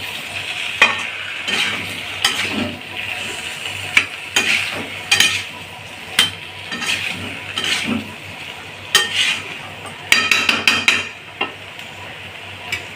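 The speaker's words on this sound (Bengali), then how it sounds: "এবার কষাবো একটু।" Young jackfruit curry being stir-fried in a pan, with repeated scraping and clacking strokes of a spatula against the pan over a soft continuous sizzle, irregular in rhythm and close by, no talking.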